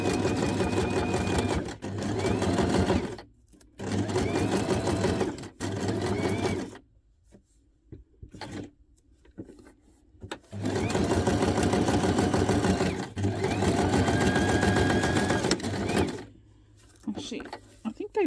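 Tiny paper scraps are sewn together on a sewing machine in a series of close, loud whirring bursts separated by brief pauses, with someone talking in some of the gaps.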